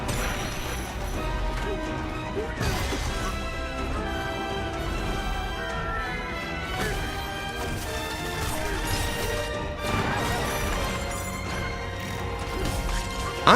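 Game trailer for a Donkey Kong title shows world destruction, with loud crashing and smashing impacts layered over music, repeated hits and debris bursts continuing steadily throughout.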